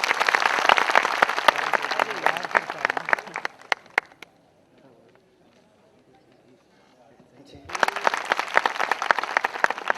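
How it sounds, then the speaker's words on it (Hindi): Loud, dense applause from a university lecture audience welcoming a speaker, broken by a few seconds of near silence before the clapping surges back just as strongly. "कृपया उनके स्वागत के लिए जोरदार तालियां बजाइए।"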